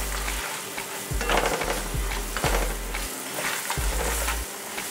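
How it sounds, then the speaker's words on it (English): Curry powder sautéing and toasting in a hot pan for Jamaican curry shrimp, a steady close sizzle and frying hiss with a few stirring scrapes and utensil knocks, no talking. "So we're kind of sauteing or toasting the curry before we get started."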